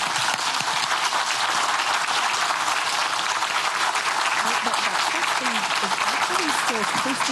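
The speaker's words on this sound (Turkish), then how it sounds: "Kapsül içinden alkışlama görüntüleri geliyor." Astronauts applaud inside a space capsule during a launch broadcast, steady dense clapping filling the whole stretch, with voices talking under it toward the end.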